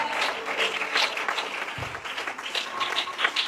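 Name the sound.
congregation applauding and cheering for the Lord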